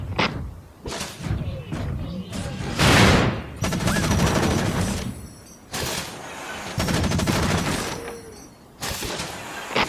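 A Wanzer mech's machine gun fires in Front Mission Evolved, loud rattling bursts of a second or two each separated by short pauses, with heavy thumping impacts and mechanical rumble in between.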